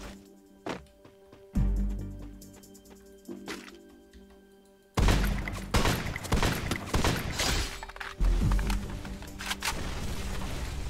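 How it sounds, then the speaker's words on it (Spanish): Gunfire aimed at the player in the Free Fire video game: sparse thuds and shots at first, then a loud, dense volley of close shooting and impacts that continues with sharp bursts through the rest. "Uy, me están disparando a mí."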